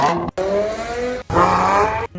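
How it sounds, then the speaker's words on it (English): A car accelerating hard with a rising engine note and turbo whine climbing in two bursts, broken by brief gear-change gaps, loud and close. "Listen to that turbo."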